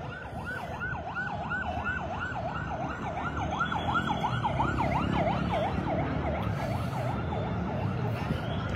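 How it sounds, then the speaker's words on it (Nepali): Ambulance sirens wail on a street in Nepal during clashes with police, with a loud, continuous rising-and-falling siren cycling steadily for the whole stretch over a constant rumble of traffic and crowd. "एम्बुलेन्सहरू कुदिरहेको छ।"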